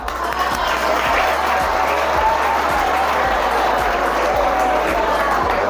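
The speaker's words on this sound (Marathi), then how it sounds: "हा, त्यांच्यासाठी जोरात टाळ्या वाजवा." Students at a college NSS camp event on superstition eradication clap loudly and continuously, a dense sustained round of applause with faint crowd noise beneath it.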